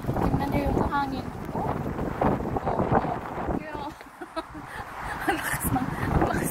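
A strong, dusty outdoor wind rushes and buffets the microphone loudly, easing for a moment near the middle before surging back, with voices talking through much of it.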